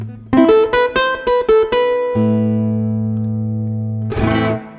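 Guitar through an amp with the tone blended toward the piezo pickup of a reinvented classical guitar: a run of plucked notes, then a long sustained ringing chord, and a final strum, clean and close.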